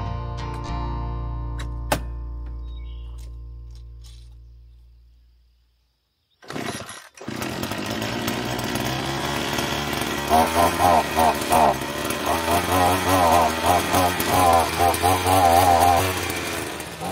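A Wild Badger 4-in-1 multi-tool weed whacker cuts weeds growing against a house, its small engine running loud and steady with a rising, wavering buzz as it bites into growth, after a short lull and restart.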